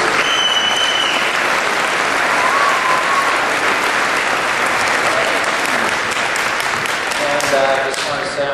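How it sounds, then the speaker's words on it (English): An audience at the 2009 SOWY Winter Games opening ceremonies breaks into loud, sustained applause that fills the hall evenly, with a few faint voices mixed into the clapping throughout. "give each other a big round of applause, please"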